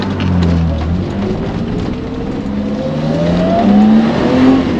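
A 1989 BMW 325i E30 engine revs loudly up toward 5,500 RPM, its pitch climbing steadily before an upshift, heard close and continuous from the car.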